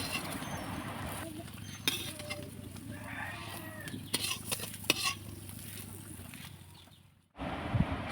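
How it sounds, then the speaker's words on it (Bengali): Lentil fritters frying in oil in a wok, a low steady sizzle broken by light scrapes and clinks as they are turned, close and quiet, then a brief drop to silence near the end. "আমি সবগুলো বড়াকে উল্টে পাল্টে ভেজে নিচ্ছি"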